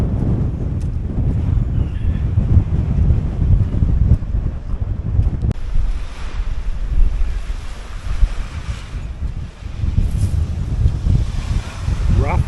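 Strong, gusty wind buffets the microphone on the blustery Suffolk coast at Bawdsey in December, mixed with steady surf and water noise throughout, loud and continuous.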